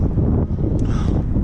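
Steady wind blows outdoors around a flatbed or stepdeck trailer load being tarped, buffeting the microphone with a loud, continuous low roar.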